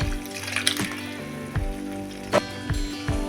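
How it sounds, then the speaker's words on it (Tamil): Water from a pressure cooker is tipped into cooked toor dal in a pan for dal, a watery splashing and trickling with a few brief clinks, moderately close, with no talk. "குக்கரில் 1 டம்ளர் தண்ணி கலந்து சேர்த்துக்கலாம்"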